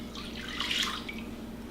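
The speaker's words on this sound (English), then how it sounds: "We're going to start by putting in a can of beef broth to the crock pot and a cup of soy sauce" Beef broth and soy sauce pour into a crock pot, a soft continuous splashing trickle of liquid lasting under two seconds.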